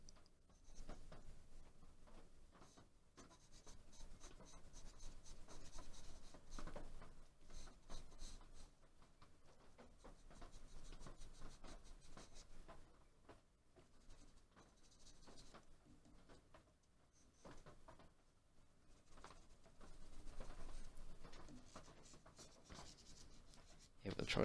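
Pencil shading a drawing of feet on toned paper, a continuous close scratchy rasp of graphite strokes that swells and fades in rhythmic passes throughout.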